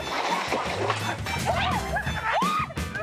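Several dogs on a boat bark and yip with rising, whining howl-like cries, loud and continuous over a busy noisy background with clatter.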